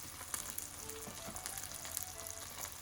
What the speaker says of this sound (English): When tomato starts to bubble like that